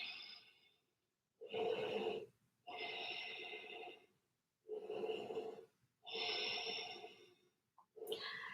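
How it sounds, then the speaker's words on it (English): Slow, deep breathing during an extended side angle yoga pose, heard as five long, close, audible inhale-exhale breaths in a steady rhythm with short pauses between them. "And taking a few breaths here."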